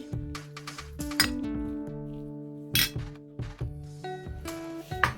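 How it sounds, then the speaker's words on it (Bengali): Cheese and chopped chicken filling mixed together in a bowl, with close, irregular glassy clinks and taps of a utensil against the bowl between short pauses. "তারপর এগুলো চিকেনের সাথে মিশিয়ে নিচ্ছি"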